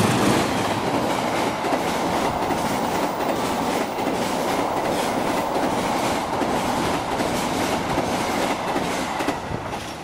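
Train rolling past Klari railway station in Indonesia, steady loud rumble with rhythmic clickety-clack of wheels over rail joints, close by and continuous, no voices.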